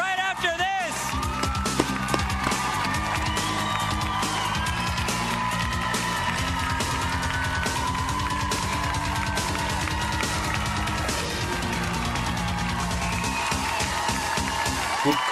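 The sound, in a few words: studio crowd cheering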